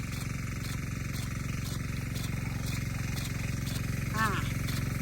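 A small engine drives a water pump feeding a 2-inch gold Italian sprinkler head, chugging with a close, even, rapid pulse as it is revved up, while a voice briefly cuts in near the end.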